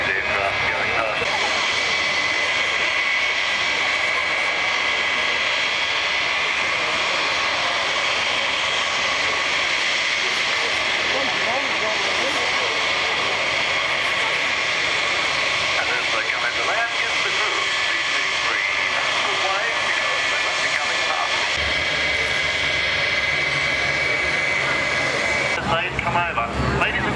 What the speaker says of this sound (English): You're seeing a lot of these aircraft going past.